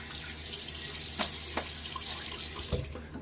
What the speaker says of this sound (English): Now a little splash of water.